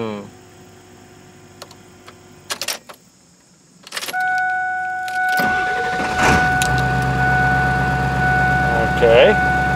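Vehicle engine on a Power Hungry Performance Hydra tuner set to a 1000 horsepower idle tune, starting after clicks and beeps and then settling into a loud, steady rumbling idle.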